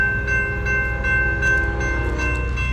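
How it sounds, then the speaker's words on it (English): Norfolk Southern freight train rolling past up close, a loud steady rumble of wheels and cars with a sustained horn tone ringing over it and rhythmic clacks from the rail joints. "Here comes a train."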